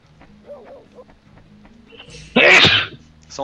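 A person sneezes once, loud and close, a sharp burst after a stretch of quiet background murmur and faint talk during a French-language Shenmue game stream.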